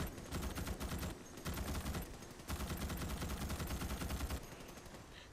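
Rapid automatic gunfire in the video game Starship Troopers Extermination, dense bursts of shots in three long volleys with brief gaps, loud and continuous.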